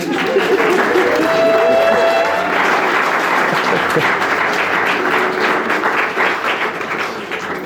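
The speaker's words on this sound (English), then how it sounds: "I think that deserves a round of applause" Wedding guests applaud together at the ceremony, a dense steady burst of clapping with a few voices under it, easing slightly toward the end.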